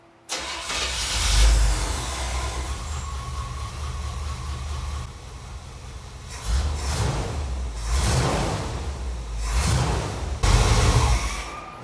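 A Chevrolet Camaro engine cranks and fires up, then runs with a deep rumble that rises in several revs and settles back to idle, loud and close by.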